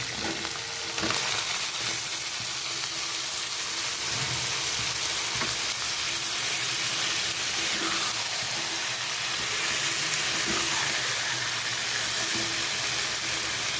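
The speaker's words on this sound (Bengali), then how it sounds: "চিংড়ি মাছটা খুব বেশি ভাজবো না হালকা ভাজবো" Shrimp and taro leaves fry in a pan with a continuous close sizzle, broken by occasional scrapes and clinks of stirring.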